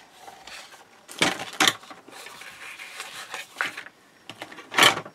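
A scored paper page for a wedding mini album is folded and burnished flat, heard as a few close, dry rubbing swipes and soft scrapes in short bursts with quiet gaps between.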